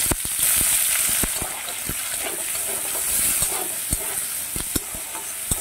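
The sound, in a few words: onions frying in mustard oil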